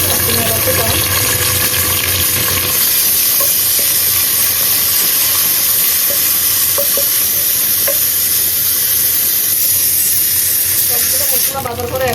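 Whole spices—cinnamon, cardamom and cloves—sizzle steadily in hot oil alongside browning fried onions, a dense continuous hiss with faint stirring scrapes and small pops, close and loud throughout.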